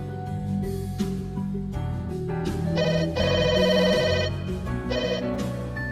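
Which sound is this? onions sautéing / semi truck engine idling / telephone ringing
telephone ringing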